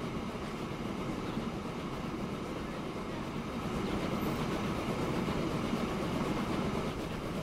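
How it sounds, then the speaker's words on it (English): A freight train hauling a full load of bricks in the video game Transport Fever 2 rolls past with a steady, continuous rumble and rail noise, moderately loud and alone with no talk. "He's going to have a full train load of bricks."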